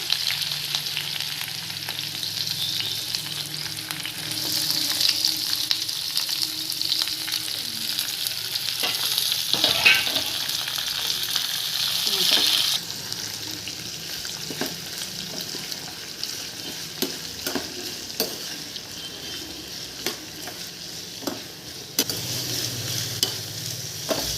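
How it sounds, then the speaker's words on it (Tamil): Onions and green chillies sauté in oil in a pan for a prawn and spinach gravy, a steady close sizzle broken by frequent scraping stirs. "இப்போது பச்சை மிளகாய் போட்டுக்கலாம் வெங்காயத்தை போட்டு நல்லா வணக்கிப்போம்"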